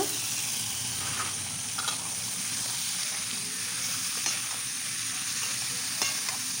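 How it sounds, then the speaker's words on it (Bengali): Washed mutton going into well-fried masala for a mutton curry, with a loud, steady close sizzle and a few light stirring knocks throughout, no talking. "মশলাটা আমার কষানো একেবারেই রেডি এখন দিয়ে দেবো ধুয়ে রাখা মাংস"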